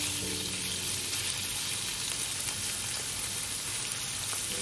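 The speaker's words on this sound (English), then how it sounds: "Heat the pan over medium-high heat and add a little bit of oil. Add the shrimp and spread them out in a single layer." Shrimp sizzling in a little oil in a pan over medium-high heat, a steady, dense crackling hiss that runs evenly and close-up throughout with no voices.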